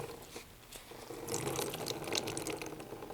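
Dyed fabric lifted out of a light rinse in dye water, with soft splashing and dripping that grow louder and steadier partway through, close and alone.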